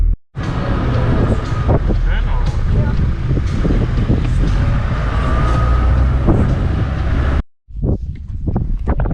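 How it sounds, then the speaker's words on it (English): Strong wind roars across a beach at Steep Point on the Western Australian coast, buffeting the microphone in a loud, continuous rush that cuts out briefly near the end before returning in gusts. "just sitting on the beach when the wind is so bad, it's not ideal"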